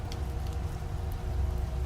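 Steady rain falls in a continuous wash, a dense patter with a low rumble underneath, holding even and fairly close throughout with no voices.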